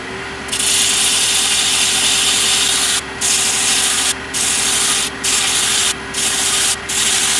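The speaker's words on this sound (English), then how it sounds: "Change your paper out to a little finer paper." Finer sandpaper scrubs the bottom of a wooden bud vase turning on a lathe, a loud close rasping hiss over a steady motor hum, interrupted by five short regular pauses as the paper lifts and returns.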